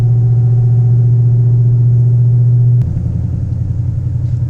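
A 2018 Mustang GT with a stage 2 Whipple supercharger rumbles loudly and steadily while cruising, a deep low drone that shifts to a rougher, throatier tone partway through, with no voices over it.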